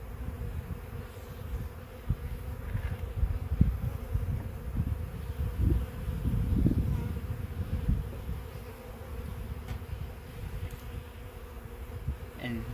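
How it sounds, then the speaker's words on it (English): Honey bees from a package tipped upside down into a hive make a steady, dense buzz that carries on throughout, close by, with no one talking. "just going to take this package that's full of bees, and I'm going to tip it upside down"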